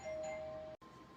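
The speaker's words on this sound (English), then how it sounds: "ringing the doorbell" A doorbell chimes with a single sustained electronic tone that cuts off abruptly, heard indoors at moderate volume.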